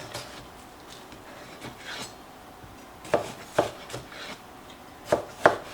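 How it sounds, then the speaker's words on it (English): Knife cutting restacked watermelon slices lengthwise on a board, several crisp chopping thuds in two pairs near the end after quieter handling, close and clear with no talk. "And then I just cut them lengthwise."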